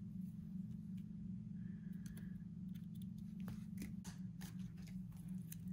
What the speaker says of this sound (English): I'm actually gonna cut it.